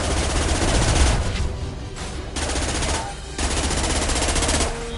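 Rapid bursts of automatic gunfire from the video game Mass Effect 2, loud and dense, with brief lulls between volleys amid a heavy combat din.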